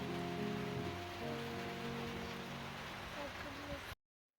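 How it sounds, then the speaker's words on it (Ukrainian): Steady heavy rain pours outside a house, a dense even hiss with faint droning tones underneath, continuous for about four seconds before cutting off abruptly to silence. "Дощ уже все посилювався"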